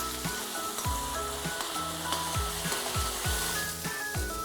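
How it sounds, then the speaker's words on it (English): Lamb liver sizzles and fries in a pot for rice pilaf while being stirred, a bright steady crackle with repeated scraping sweeps of the spoon roughly every second. "we only stir the liver for a few minutes"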